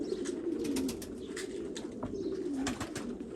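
Pigeons coo in repeated low, rolling calls, fairly close, with faint wing flutters and small noises around them at a pigeon loft.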